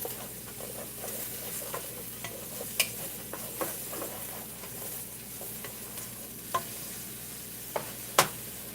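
Onions sizzling in oil in a pot on the stove for broccoli cheddar soup, a steady close frying hiss throughout, broken by a few sharp clinks of a utensil against the pot.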